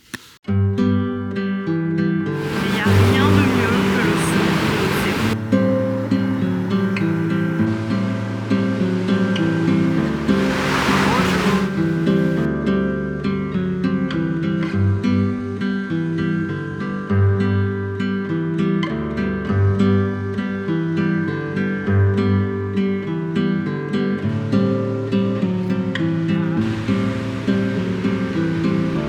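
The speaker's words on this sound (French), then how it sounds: "c'est le son des vagues à Manhattan Beach." Loud, steady roar of surf washing onto Manhattan Beach, with waves breaking in repeated surges and no voices.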